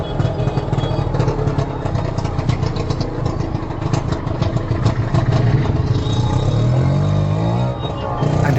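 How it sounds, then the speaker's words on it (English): An auto rickshaw engine runs roughly at tickover, producing a loud, continuous clattering idle that stays close and steady throughout. "even on tickover, the rickshaw sounded like a mechanical bullfrog with indigestion."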